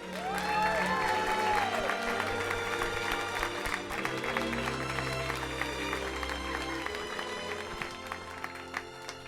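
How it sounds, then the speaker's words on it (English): A studio audience breaks into sustained applause with some cheering after a historical roast introduction of Walt Disney, the clapping dense and steady before slowly thinning out over several seconds. "Let's give a big round of applause to Walt Disney."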